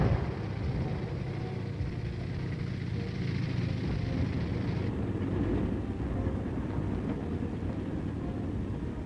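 A remote-controlled military tank moves toward its objective, giving off a continuous low mechanical rumble and drone that stays steady and moderately loud throughout.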